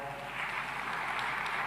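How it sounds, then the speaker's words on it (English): An audience at a conference gives steady applause for a Norwegian minister, a continuous, even patter of many hands with moderate loudness that lasts the whole brief moment. "A big round of applause for her."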